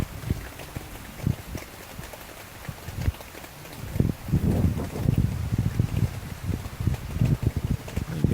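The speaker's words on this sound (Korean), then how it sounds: "이 빗소리가 바깥의 빗소리가 아니고 이게 안에서 떨어지는 물소리잖아" Water drips and splashes indoors, sounding like rainfall, with a steady patter of irregular close drops that grows busier and louder partway through, over a faint background hiss.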